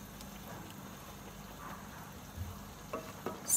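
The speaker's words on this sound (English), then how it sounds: "And I'm just going to stir all that in." Curry powder, ground coriander and garam masala being stirred into a pan for a vegan dish, giving a faint, low sizzle with a few soft stirring knocks near the end.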